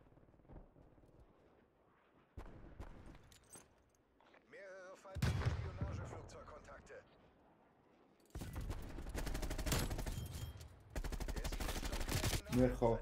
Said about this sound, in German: Du schießt auf mich.